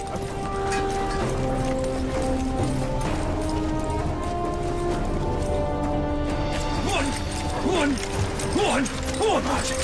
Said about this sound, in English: But these horses are pulling on sand.